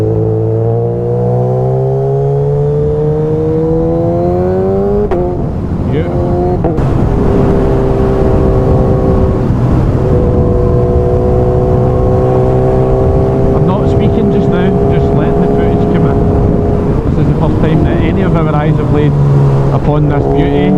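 Suzuki GSX-S 1000 motorcycle on the road, engine pitch climbing through gears with quick-shifter changes marked by sharp breaks, loud wind-buffeted onboard sound with a rider talking over it.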